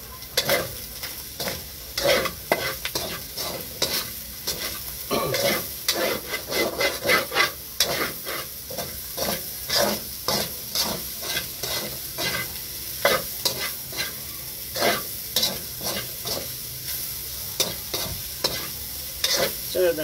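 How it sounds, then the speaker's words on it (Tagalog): Pork giniling sisig is stirred in a hot pan with onions, giving a steady frying sizzle broken by repeated scraping strokes of a spatula in a fairly quick rhythm, close and with no talk. "Then, haluin natin ulit."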